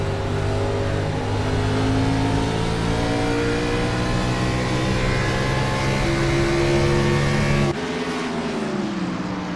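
Race cars in a racing video game run at New Hampshire, a loud, steady pack of engine tones holding high revs together, briefly dropping in pitch near the end as the cars ease off through a turn.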